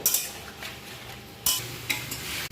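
Spice paste being stir-fried with vegetables in a pan, a close, continuous sizzle under scraping spatula strokes and a few sharp metallic clinks.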